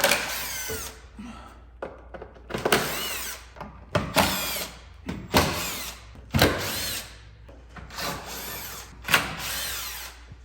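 A power tool spins off 10 mm bolts from a Porsche skid shield in about eight separate loud whirring bursts, each short and close, with quiet gaps and clicks between.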